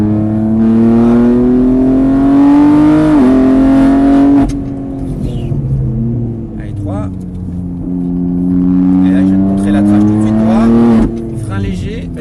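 A race car on a circuit, its engine droning steadily at high revs, dipping as it brakes and climbing again as it accelerates. A coach talks over it throughout.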